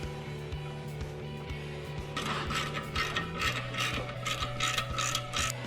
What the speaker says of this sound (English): I'll run this tap in here